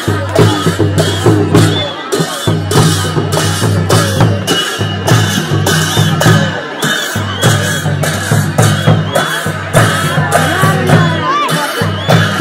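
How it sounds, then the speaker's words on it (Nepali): A crowd whoops, shouts and cheers loudly and continuously for a Lakhe dance performed by Chhangeli Newa Khala Damauli. "जोरदार ताली बजाई सम्मान गर्दिनु होला"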